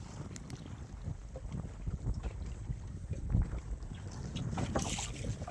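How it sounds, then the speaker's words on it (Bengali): A boat moving along the Matla river in the Sundarbans, heard as a steady broadband rush of wind and water noise with occasional knocks, fairly loud and continuous with no talk. "কতটা সুন্দর একটা বোট যাচ্ছে"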